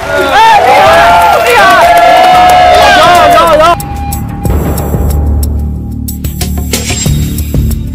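A basketball arena crowd on the competition show This Is Basketball roars, cheers and claps loudly with bright noisemaker tones for about four seconds, then drops to a lower, restless murmur.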